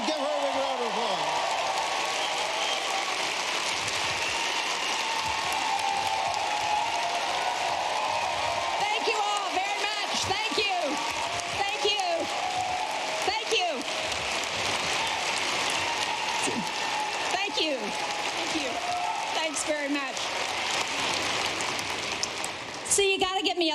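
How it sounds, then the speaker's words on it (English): Sustained applause from a large crowd at an evening event honoring Senator Jeanne Shaheen, dense clapping running steadily throughout with scattered cheers and voices mixed in. "Get up and give her a big round of applause."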